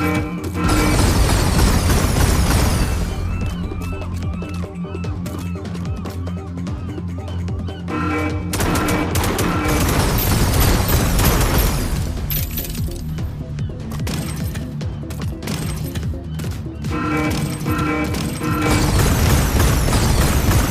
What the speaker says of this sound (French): Activez la tourelle, les gamins!